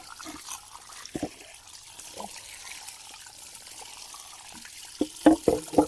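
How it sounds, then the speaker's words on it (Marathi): Water is splashed and poured over old clay roof tiles being washed, with soft trickling throughout and a few louder splashes and clatters near the end. "पहिल्यांदा धुवून घेऊया कौला पूर्ण"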